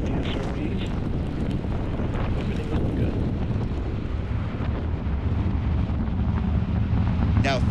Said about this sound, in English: let's listen to the rumble of the BE-4 engines igniting for the very first time, supporting the launch of a Vulcan rocket.